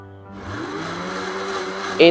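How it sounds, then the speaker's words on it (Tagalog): A video game blender's whir builds and holds steadily for a couple of seconds, ending in a brief louder burst, with game-style tones underneath. "It was in a blender this entire time."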